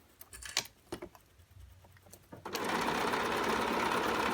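Sewing machine stitching rayon bias trim, first a few scattered taps and handling sounds, then the motor starts and runs in a steady, loud, continuous whir to the end.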